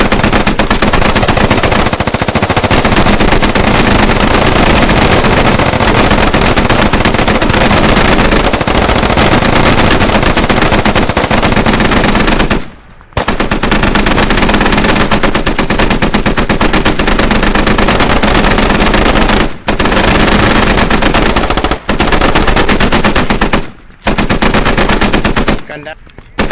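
A machine gun firing in long, continuous, very loud bursts close by, broken by a few brief pauses before the shooting resumes.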